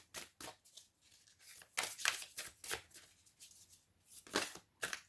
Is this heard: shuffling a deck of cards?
yes